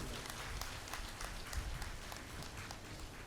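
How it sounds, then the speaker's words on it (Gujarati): An audience at a jubilee gathering applauds a speaker, a dense, steady wash of clapping from many hands, moderately faint and continuous throughout. "ફરી એમને એક વખત ખૂબ તાળીઓથી વધાવી લઈએ"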